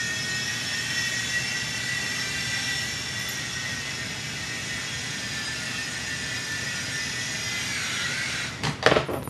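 An E-Flite Blade MCX micro RC helicopter flies indoors, its rotors giving a steady high whine and hum that holds for several seconds before a few brief knocks near the end.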